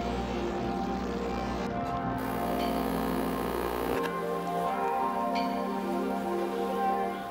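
A steady, dense electronic hum and buzz from an ultrasonic cleaner running with water, continuous and fairly loud, its tone shifting partway through as the degas cycle changes, with no talking.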